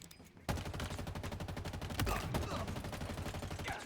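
Rapid automatic gunfire in a shooting video game, a loud sustained burst of evenly spaced shots that starts abruptly after a brief quiet moment and continues without letup.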